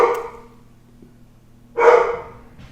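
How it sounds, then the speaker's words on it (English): Dogs barking excitedly before a walk, two separate bursts of loud, close barking with a quiet gap between them. "Dogs are getting excited because we're going out for a walk today."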